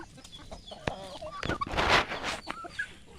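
Chickens cluck and call close by on a rural farm, with a dense flock producing overlapping clucks and short squawks throughout, louder in the middle, with faint voices in the background.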